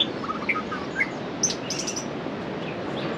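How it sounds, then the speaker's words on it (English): Birds chirp and sing on the coast of Kauai, Hawaii, with scattered bright tweets and short trills over a steady wash of surf-like noise. "I love those birds."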